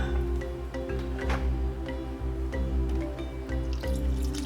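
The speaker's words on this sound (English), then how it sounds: "add some coconut milk into the pot with the fish" Coconut milk pours into a pot holding fish for a turmeric fish curry. Close liquid splashes and drips come in uneven bursts over a low steady hum.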